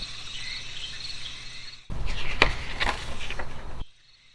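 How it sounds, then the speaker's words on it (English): Insects and tree frogs sing in a humid swamp, a dense chirping, trilling chorus that fills the scene, then swells louder before cutting off abruptly. "a wall of condensation, insects, and the singing of tree frogs hit you in the face"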